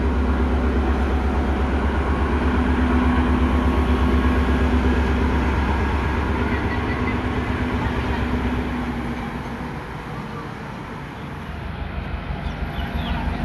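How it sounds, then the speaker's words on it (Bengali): A Durga Puja special train on the Agartala to Dharamnagar run pulls out of the station with a loud, steady rumble of wheels and engine that eases slightly toward the end, with no voices over it. "ট্রেন ছেড়ে দিল, লোকো পাইলট ঝান্ডা নিয়ে আছে।"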